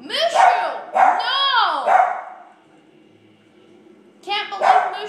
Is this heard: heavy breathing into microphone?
no